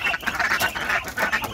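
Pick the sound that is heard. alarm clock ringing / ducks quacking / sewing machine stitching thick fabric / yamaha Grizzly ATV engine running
ducks quacking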